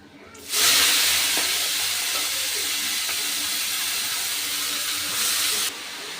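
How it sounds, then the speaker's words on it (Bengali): A sudden loud hiss bursts up as chopped, washed cabbage hits hot oil with whole cumin, settling into a steady sizzle that cuts off near the end. "কেটে ধুয়ে রাখা বাঁধাকপিটা এবার আমি তেলের মধ্যে দিয়ে দেবো"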